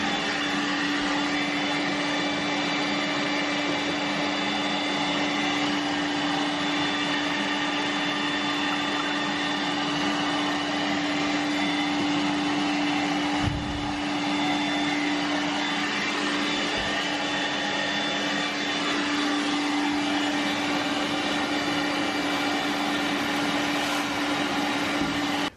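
Shop dust collection suction roars steadily through a floor sweep fitted with a blast gate, a constant loud whooshing hum with a tonal drone and a couple of brief bumps.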